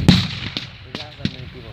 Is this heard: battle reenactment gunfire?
yes